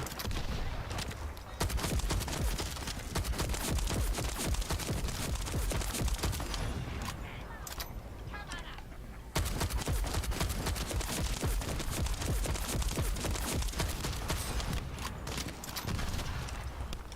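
Gunfire in The First Descendant, rapid sustained bursts of automatic shots crackling in dense volleys, loud and close, broken by a couple of brief pauses before resuming.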